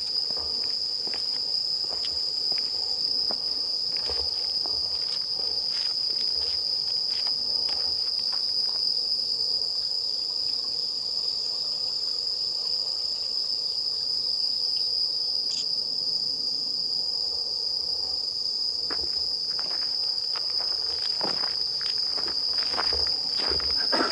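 Crickets and other insects chirp in a dense, steady chorus outdoors at night near a mountain shrine. A high shrill trill runs without a break, with faint scattered footsteps and rustles underneath.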